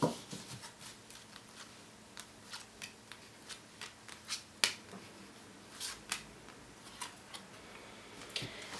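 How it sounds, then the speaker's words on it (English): Tarot cards being shuffled at a reading table, a soft run of short crisp riffles and snaps spaced through the quiet, each light and close with brief pauses between. "So a little bit of a shuffle"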